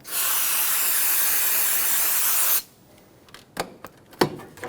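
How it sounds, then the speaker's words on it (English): A steady, close hiss of parts cleaner sprayed from an aerosol can onto a rag, lasting a couple of seconds, then stops, followed by a few faint clicks and rustles. "we're going to take a clean rag and some parts cleaner and spray it on the rag"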